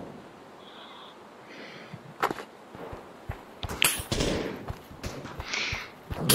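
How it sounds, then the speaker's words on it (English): Gunfire in the Pavlov VR shooter game, a few sharp cracks and bursts scattered over a noisy game background with some rustling and brief whooshing sounds. "I can hear gunfire."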